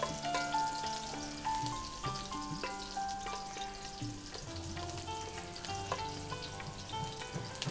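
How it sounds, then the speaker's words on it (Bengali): Chopped onions sizzle steadily in a hot pan, likely a nonstick or iron wok, while cooking jollof rice; the frying hiss is loud and continuous throughout, with a few stirring scrapes and no talking. "পেঁয়াজগুলো দিয়ে দিচ্ছি।"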